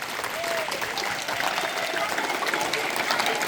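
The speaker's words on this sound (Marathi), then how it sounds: "गट क्रमांक एक साठी जोरदार टाळ्या" Applause from a school group rings out after a Constitution Day quiz for the winning team, a steady dense clatter of many hands filling the whole stretch, with some voices mixed in.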